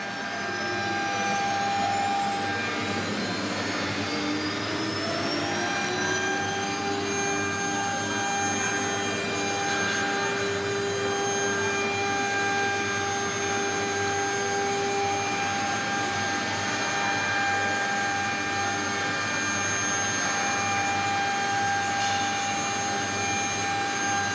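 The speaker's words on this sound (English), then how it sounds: "the machine is working, following the files" A 3D rotary wood carving machine with twelve spindles runs steadily, giving a continuous whirring drone with high tonal whines. It stays loud and even the whole way through, with no talk over it.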